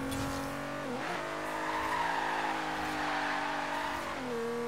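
Nissan 370Z Fairlady drift car in Forza Horizon 3 held near redline, a loud continuous high-pitched engine wail with small pitch dips and tire squeal throughout.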